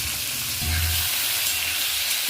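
Pieces of pointed gourd (potol) fry in hot mustard oil, giving a continuous close sizzle and hiss with a brief deeper bubbling burst. No voices are heard.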